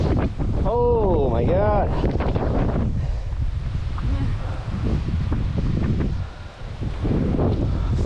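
Strong wind buffets the microphone high on a mountain overlook along the Appalachian Trail in Shenandoah National Park, a loud steady roar with gusts that swell and dip, while a voice exclaims briefly near the start.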